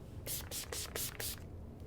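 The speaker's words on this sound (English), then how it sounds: "I'm gonna go in with the Urban Decay Chill Makeup Setting Spray directly over top" Urban Decay Chill makeup setting spray is misted onto a face in about five quick, hissing pumps, close and fairly soft.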